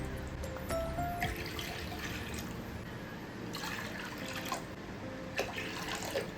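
Water is poured from a bowl into a pot for cooking raw mango rice, producing faint, intermittent splashing and trickling over a constant low background hum, with no voices.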